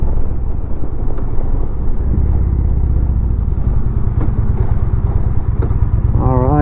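A motorcycle fitted with lower fairings rumbles loudly and continuously as it rides along and arrives to park, with heavy wind buffeting over the engine and a brief rising tone near the end.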